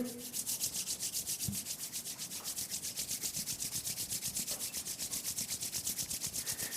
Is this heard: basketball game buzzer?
no